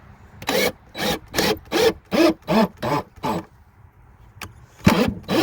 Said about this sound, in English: I'm drilling into hardwood. This piece of wood here is hardwood.